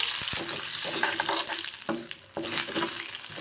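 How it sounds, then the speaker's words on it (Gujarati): Whole spices, mustard seeds, asafoetida and cumin, crackle and sizzle in hot oil in a pan, with bursts of stirring scrapes over a steady frying hiss. "હવે બધા જ ખડા મસાલાને આપણે તેલમાં સાતળી લઈશું"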